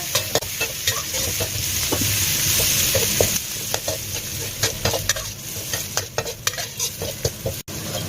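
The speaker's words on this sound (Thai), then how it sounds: "ใส่เครื่องผัดลงไปเลยนะคะ กระเทียมพริกค่ะ ผัดให้หอมเลยนะคะ" Garlic and chili stir-fry in hot oil, a continuous close sizzle overlaid with repeated scraping and clinking spatula strokes against the pan that grow more rhythmic toward the end.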